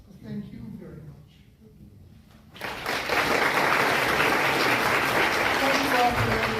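A crowd at a livestreamed rally in Sandpoint, Idaho claps and cheers in a sustained, loud burst that erupts suddenly after someone speaks over a microphone and continues steadily to the end.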